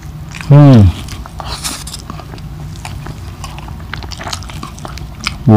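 Crispy lechon kawali, deep-fried pork belly, is bitten and chewed up close, soft crunching and mouth noises with loud vocal bursts at the start and end.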